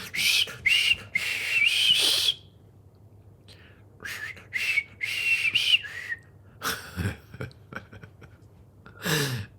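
A comic clown whistle in a song plays two warbling, wobbly phrases with a bubbly, underwater quality, followed by scattered softer noises.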